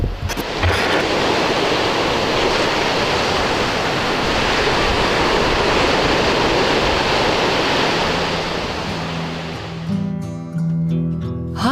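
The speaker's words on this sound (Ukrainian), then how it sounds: "Гарний краєвид, свіже повітря і звук морських хвиль." A continuous, loud roar of sea waves washing ashore with a steady rushing hiss. Near the end it drops away and other sounds take over.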